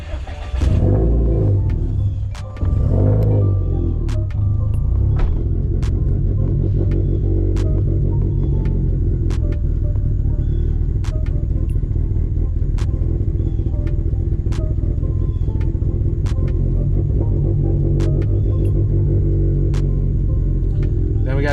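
A car engine is running as a loud, continuous rumbling hum after a rough burst in the first few seconds, with faint clicks and ticks over the steady drone.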